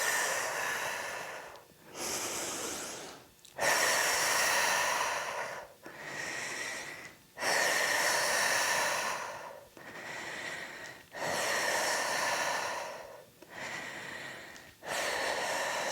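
Deep rhythmic breaths during a yoga core breathing exercise, each long airy exhale and inhale rising and falling in regular cycles about every two seconds, close and fairly loud with no talking.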